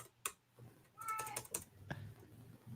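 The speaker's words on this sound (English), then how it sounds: "Whose cat are we hearing now?" A cat gives a faint, brief meow in a quiet room, mixed with soft computer keyboard typing and a few clicks.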